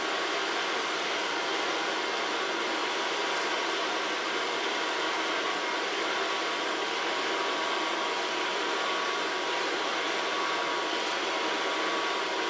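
A hair dryer blows continuously while hair is dried at the neckline with a large brush, a loud steady airy roar with a faint whine, unbroken for the whole stretch.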